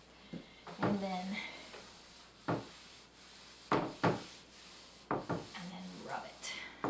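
A wooden piece of furniture has finish rubbed into it by hand, giving short scrubbing strokes in bursts, close and moderately loud, with pauses between passes.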